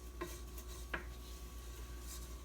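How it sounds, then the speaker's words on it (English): A spoon stirring cream cheese into a homemade Alfredo sauce in a pot, with faint scrapes and light clinks of utensil on cookware over a steady background hum. "So we're stirring in the cream cheese."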